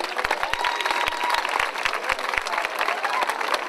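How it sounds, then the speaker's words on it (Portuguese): A crowd at an outdoor parish festival march applauds, a dense patter of clapping with some sharper nearby claps and faint cheering mixed in. "também uma grande salva de palmas para o CCD e para a doutora Araminda"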